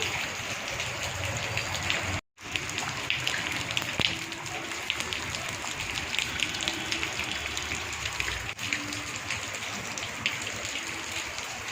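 Water running down a flight of stairs after the drain holes became blocked, a steady close splashing rush that continues almost unbroken apart from one brief dropout.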